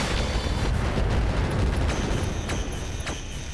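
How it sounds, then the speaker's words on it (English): A volley of Inferno missiles fired at a bandit mech in the RogueTech battle game, a dense, continuous roar of launches and bursts with sharp high crackles late in the barrage, loud and with no talk. "Let's just go for the bandit and fire Inferno missiles."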